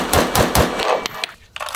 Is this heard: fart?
no